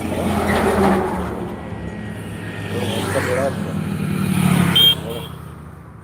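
Traffic on a rough road rumbles past, engines swelling and fading as vehicles approach and go by, with a person talking over the steady noise.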